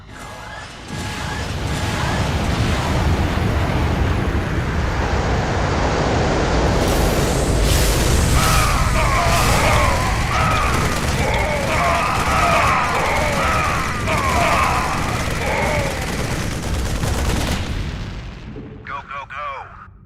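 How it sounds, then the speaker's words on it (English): Drop pods called down to summon infantry in StarCraft II, a loud, continuous roar of impacts and booming rumbles that lasts about fifteen seconds, with a narrator's voice over it, before fading out. "Now we'd like to show you the drop pods."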